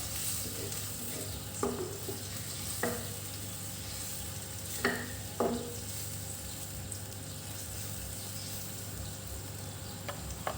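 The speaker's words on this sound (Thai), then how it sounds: "คลุกเคล้าให้เข้ากันครับ" Pork belly braising with sweet soy sauce in a pan is stirred, steady sizzling under several distinct close scrapes of the utensil at irregular intervals, with no talking.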